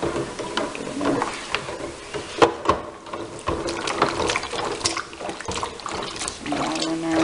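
Water pours steadily into a homebrewing bucket for German pilsner, a continuous close splashing trickle that swells and fades, with small clunks of equipment in between.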